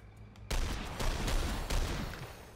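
Gunshots in the turn-based tactical game The Lamplighters League: sharp, loud bursts crack out after a quiet start, with a few more heavy shots following in quick succession.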